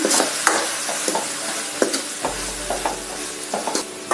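Chilli powder masala sautéing in a pan for river crab gravy: a steady loud sizzle with repeated scraping stirs of a spoon across the pan, no voices.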